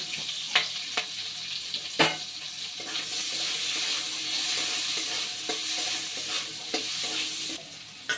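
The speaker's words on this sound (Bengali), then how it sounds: "ওই ডিম ভাজার তেলেই দিয়ে দিচ্ছি পেঁয়াজ কুচি" Chopped onion and capsicum sizzle in leftover egg-frying oil in a pan, a steady close hiss broken by several sharp spatula scrapes and clicks, with no talk.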